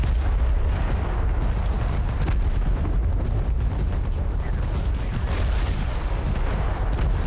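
Dense, continuous rumble of artillery fire in the war game Total Conflict: Resistance, deep booms blending into a steady low roar with no clear gaps between shots.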